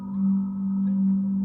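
A music disc from the video game Minecraft plays as a steady, low, droning ambient tone that holds evenly and swells gently, with faint eerie texture above it and no voices.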